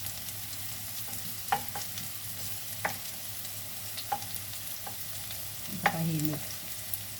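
Garlic fries in oil with a constant soft sizzle, broken by occasional clinks and scrapes of a spatula against the pan, and a brief louder stirring burst near the end; a voice says a single word early on.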